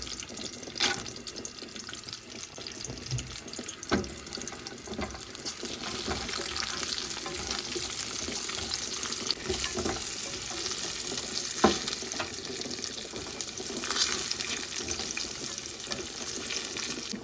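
Cashews sizzling in hot ghee, a continuous soft crackle and hiss with occasional stirring scrapes, fairly quiet and close, with no voices.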